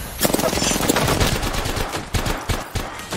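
Rapid automatic gunfire from an Apex Legends firefight crackles in dense, overlapping bursts, loud and close, with brief gaps between volleys.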